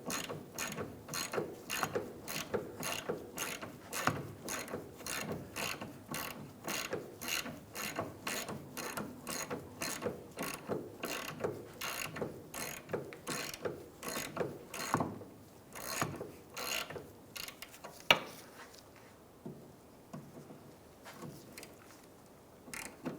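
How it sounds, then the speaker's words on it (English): Close, loud ratchet wrench clicks in a fast, steady rhythm as the strut nut is loosened on a 2003-2011 Honda Element, then the clicking gives way to quieter handling sounds near the end. "I'm going to wrench on that. We'll go ahead and loosen the nut here."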